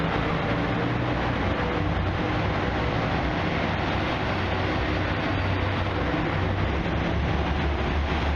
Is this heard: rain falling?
no